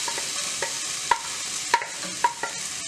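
Carrots, beans and capsicum fry in a pan with a steady broadband sizzle, while a spoon stirs them in a few sharp scraping knocks spaced about half a second apart, close and fairly loud.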